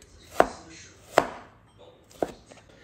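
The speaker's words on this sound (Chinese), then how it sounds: "再把西红柿切成大块" A kitchen knife cuts peeled tomatoes into large chunks on a cutting board: three separate, crisp chops spaced about a second apart, close and clear with no talking.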